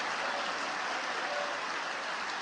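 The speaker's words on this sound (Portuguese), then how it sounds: "Libere a tua salva de palmas ao Senhor." Church congregation claps in praise during a Portuguese-language evangelical service, a dense, steady wash of many hands, fairly soft and continuous with no speech over it.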